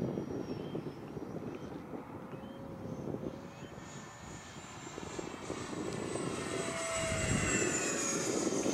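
A 70mm EDF E-flite Viper model jet flies past, its ducted fan giving a steady, loud whine with a broad rushing roar that builds toward the end, heard alone without talk.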